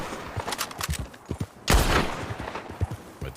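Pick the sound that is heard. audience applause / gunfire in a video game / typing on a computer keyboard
gunfire in a video game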